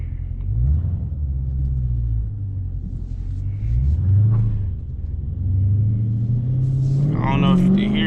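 Deep exhaust rumble from a 2019 Dodge Challenger Scatpack driven at night, steady and loud with several rising revs as it accelerates, a sharper rev swelling near the end.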